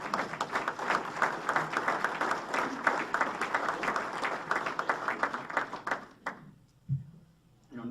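Audience applause fills a hall during a mayor's State of the City address in Quincy, a dense, steady clapping that runs for about six seconds before cutting off abruptly, leaving a brief near-silence and a low thump.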